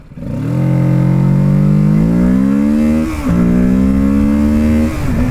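A 2024 Kawasaki Ninja 650 motorcycle accelerating hard through second gear, engine note climbing steadily and loud, with a brief dip near the end before pulling on.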